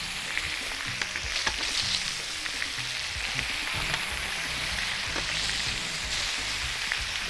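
Chicken breasts sizzling on a grill, a dense steady crackling hiss with scattered pops, close and loud, with no voices.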